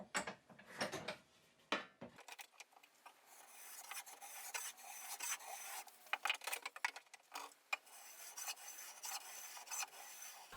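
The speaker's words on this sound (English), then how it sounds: "I use my block plane to round off the inside edges." Rough, raspy scraping strokes of a block plane rounding the edges of a wooden picture frame, coming in short irregular bursts, fairly quiet and close, with no talking.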